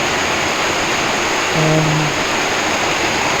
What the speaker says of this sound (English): still raining, water continuously flowing.